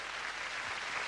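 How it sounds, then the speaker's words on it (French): A studio audience applauds a performer with dense, steady clapping that fills the whole brief moment at an even level, with no voices on top. "Applaudissez-le encore, merci"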